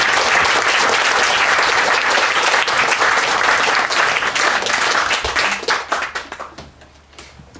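Enthusiastic audience applause at a lodge event, a dense burst of many hands clapping that holds strong for several seconds, then thins into scattered claps and fades out.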